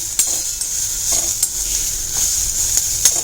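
Malvani masala ingredients being sautéed in a pan give a steady close sizzle, with light stirring clinks and scrapes of a utensil at irregular intervals throughout.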